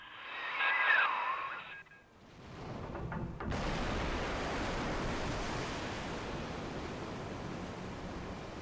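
In BioShock 2, rushing water floods in with a steady broadband roar after a brief electronic tone as overloaded pumps fail, continuous and loud, like surging waves.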